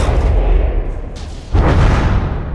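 Battleship guns in From the Depths roar in a dense, heavy rumble of booming fire that dips briefly before a fresh thunderous volley, loud and close.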